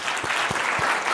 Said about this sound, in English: I wanted to give Zach a big round of applause